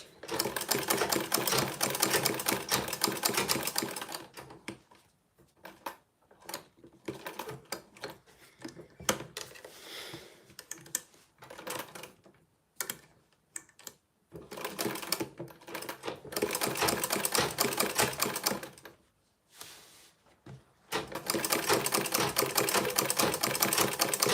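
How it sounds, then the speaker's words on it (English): A sewing machine stitches a waist bag in long bursts of rapid, steady clatter, stopping and starting several times, with quieter gaps of handling noise between runs. "So I'm just going to sew."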